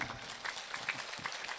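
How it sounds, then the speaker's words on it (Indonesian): An audience clapping their hands at a religious lecture in a hall, a short burst of dense, steady applause from a crowd, moderately loud and uninterrupted. "Tepuk tangan."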